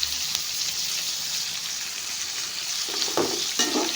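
Onions sautéing in a pan for mango and drumstick sambar, a constant close sizzle with a few stirring scrapes near the end, and no voices.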